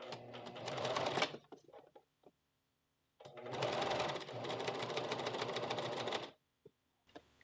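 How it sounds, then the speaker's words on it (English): A sewing machine top-stitches along a blouse hem about 4 to 5 millimetres from the edge, running in two loud, steady whirring bursts of one and three seconds with a pause between, then starting again. "to top stitch along this edge here about 4 to 5 millimeters off the edge"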